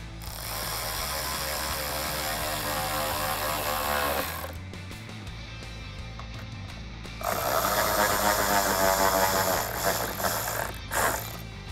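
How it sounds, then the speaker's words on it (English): A ratchet with a 7mm socket tightens bolts into the corner of a 2018-2021 Ford Mustang rear bumper behind the tail light, giving steady rapid clicking in two close bursts with a short pause between. "I'll tighten that down with my 7mm socket"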